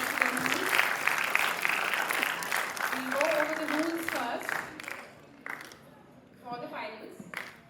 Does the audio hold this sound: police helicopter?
no